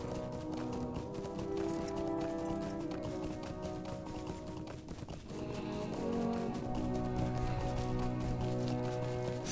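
Horse hooves clip-clop in a quick, steady rhythm while riding through the hills of Rivendell in Lord of the Rings Online, under a soft music bed, with a brief dip midway.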